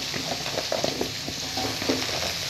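Carrots and cabbage sizzle in a hot pan for cap cay while a utensil scrapes and stirs in irregular clicks over a steady frying hiss.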